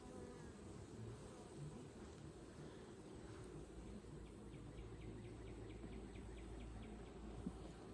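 A steady, dense buzzing of many honey bees at a hive, continuous and even, with faint rapid wingbeat tones rising now and then.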